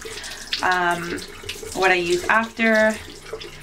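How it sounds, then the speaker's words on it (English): Tap water runs steadily into a sink as hands are washed, a continuous hiss of flowing water beneath someone talking close by throughout. "I'm gonna wash my hands"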